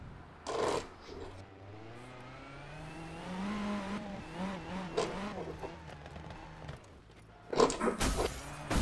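A rally car in the Sébastien Loeb Rally Evo video game, racing Rally Wales, revs and whines as it slides, its engine pitch rising and falling between louder bursts of gravel and impact noise.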